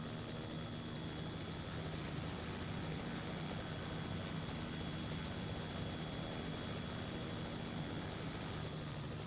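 A helicopter engine in the Helicopter Simulator 2021 flight game drones steadily throughout, a constant, even rumble and whine with no pauses, heard alone at moderate loudness.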